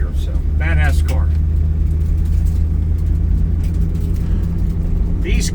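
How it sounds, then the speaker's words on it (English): A 1969 Ford Mustang Mach 1 with the 428 R Code engine drives at low speed, its steady, loud rumble running throughout, with a short burst of people's voices near the start. "We're going to drive around the circle here and kind of give you a little drive around here."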